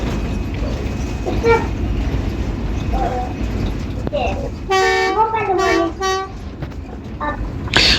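Locomotive horn of the Khyber Mail, heard from inside the cab on the run from Nowshera to Peshawar: loud, sustained blasts in the middle of the stretch, set against a steady rumbling cab background.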